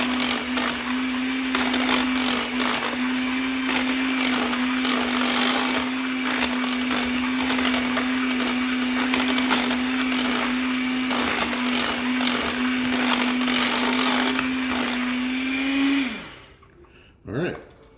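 An electric hand mixer whips boiled potatoes with a little added milk into mashed potatoes, a steady loud motor whine running without a break until it winds down and stops near the end.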